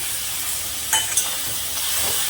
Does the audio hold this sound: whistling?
no